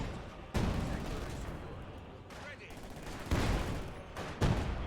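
A ZiS field gun firing in Company of Heroes 2 amid battle noise, a few heavy booming shots standing out over a dense wash of war sounds.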